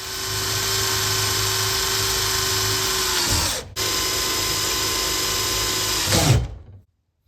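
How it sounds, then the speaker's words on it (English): Electric drill boring holes through a metal exhaust guard, a steady loud whine running several seconds, breaking off briefly, then resuming before stopping abruptly. "have to drill my holes."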